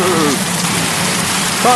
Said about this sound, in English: This tree is what's been taking the brunt of the rain.